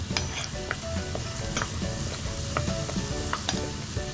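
Katori chaat cups frying in hot oil while being gently stirred, a dense, close, continuous sizzle with light bubbling and soft utensil taps, no voices.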